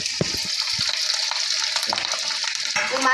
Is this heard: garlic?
yes